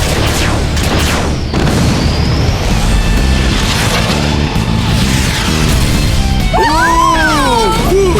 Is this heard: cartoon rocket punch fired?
yes